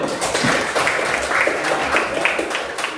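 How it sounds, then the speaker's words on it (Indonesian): Classroom applause for a student who has just answered, a dense steady patter of many hands clapping for about three seconds, fairly close and loud with faint voices underneath. "Oke, buat Naldo tepuk tangan dulu"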